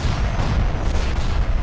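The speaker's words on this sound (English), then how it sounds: "All the explosions from the rockets just popping off." Rocket explosions in a space battle video game rumble and pop continuously, a dense, loud barrage of overlapping booms with no gaps.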